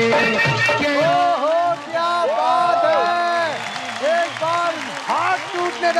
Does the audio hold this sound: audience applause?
yes